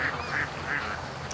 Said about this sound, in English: Okay, well, there's some happy ducks.